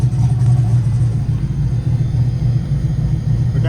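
A turbocharged LS engine in a Mustang idles with a deep, steady rumble, loud and close, holding an even low throb with no revving and no one talking.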